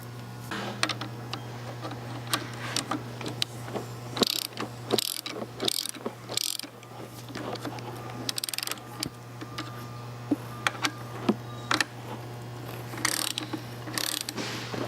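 Spring compressor being tightened on a KYB strut during strut mount replacement, a run of close ratcheting clicks and mechanical clanks in uneven bursts over a steady low hum, with no talking.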